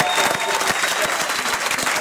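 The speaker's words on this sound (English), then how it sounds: "big round of applause for Paris." A crowd applauding at the Cold Waves memorial concert for Jamie Duffy, with dense sustained clapping and cheering filling the room, voices mixed in.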